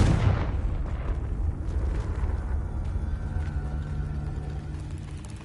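A Confringo spell explosion in the video game Hogwarts Legacy, a loud fiery boom that bursts at the start and then rumbles and decays slowly over several seconds.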